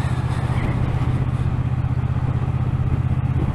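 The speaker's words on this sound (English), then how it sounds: "It sounds lovely, and everyone who knows that the Triumph Twin engine is a good engine" A Triumph T120 Bonneville with a 1200 cc parallel-twin engine runs at a steady idle close by, a low, even throb with a faint mechanical clatter and no talking.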